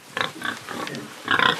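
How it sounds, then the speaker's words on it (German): Pigs in a stall on a traditional farm grunt and squeal in a few short, fairly close bursts, with a louder cluster of squeals near the end and no talking. "Auch um die Schweine kümmert sich jetzt Noah aus Rostock."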